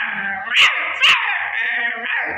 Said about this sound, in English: Your tiny little barks won't scare me.